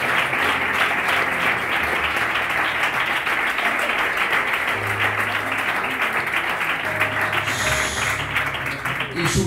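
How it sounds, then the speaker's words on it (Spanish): Church congregation applauding during a sermon, sustained loud clapping from many people with a low musical hum underneath and a brief higher tone near the end. "A ver, tiene un aplauso al Señor."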